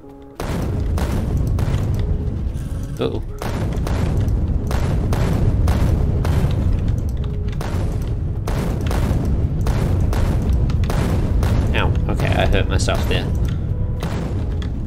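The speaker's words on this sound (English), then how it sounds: "Grenades aren't doing as much damage as I thought they would" Grenade explosions hitting swarming bugs in the video game Factorio: a dense, loud, near barrage of booms and heavy thuds, bursting in rapid succession almost without pause for the whole stretch.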